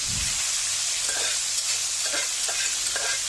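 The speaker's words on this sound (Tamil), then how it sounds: "இப்போ மட்டன் எல்லாத்தையும் கடாயில் சேர்த்தாச்சு. இப்போ இதில் போட்டேன் நல்லா இப்படி வதக்கி விடணும் எண்ணெயிலேயே." Mutton pieces stir-fry in hot oil in a kadai for a pepper fry: a constant bright sizzle, close and loud, broken by several scraping strokes of a spatula against the pan.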